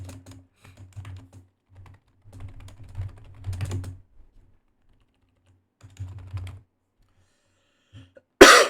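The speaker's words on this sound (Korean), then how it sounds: "기침이 계속 나와가지고" Coughing comes in short, muffled bursts scattered through the clip, quiet and close, mixed with light keyboard typing, then one sharp loud burst near the end.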